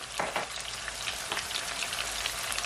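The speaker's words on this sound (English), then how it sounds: "you're just gonna leave it, guys, to saute for at least 5 seconds" Ackee sautés in a pan with a dense, steady hiss and crackle, a few sharper spatters popping through, close and heard alone without talk.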